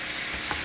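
Mutton snapper frying in a hot pan, a steady close sizzle with a brief stirring scrape midway, no talk.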